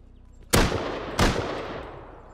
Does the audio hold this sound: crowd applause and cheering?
no